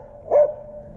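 A single short yip from a puppy near a lake during a bass fishing outing, one brief bark standing alone over a quiet background.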